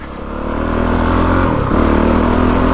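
A Honda CRF450RX dirt bike engine idles and burbles close by at low speed, its steady throb briefly dropping then surging back as the throttle snaps on and off.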